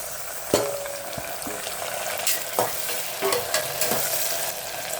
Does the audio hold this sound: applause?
no